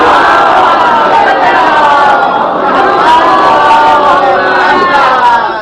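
A congregation at a Shia majlis reciting salawat in unison, a loud, sustained mass of many voices chanting together without a break.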